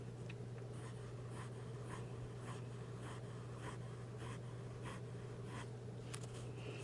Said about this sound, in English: Some fast writing.